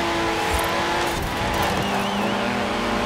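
A Porsche in Forza Horizon 4 on Xbox Series X revs hard, its engine note climbing and shifting through gears with some tire noise, loud and continuous, with no talking.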